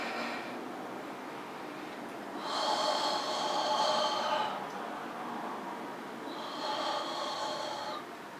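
Deep breathing during a gentle mat yoga pose, with two long, audible breaths drawn in and out close to the microphone, each swelling and fading over a couple of seconds, with quiet room tone between them.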